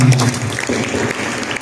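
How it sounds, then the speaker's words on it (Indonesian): Congregation applause at a church service, a dense burst of clapping from many hands with a low voice briefly over the start, short and steady. "Mari berikan tepuk tangan."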